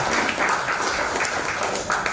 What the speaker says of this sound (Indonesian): Kita berikan tepuk tangan kepada beliau berdua.